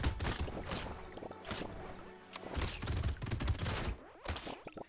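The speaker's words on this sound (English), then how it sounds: "I keep hearing the explosions change for like a full second after I actually set them off" Chained explosions from the Brotato video game burst in rapid overlapping succession, dense crackling booms stacking on each other nearly continuously with brief lulls, loud and busy.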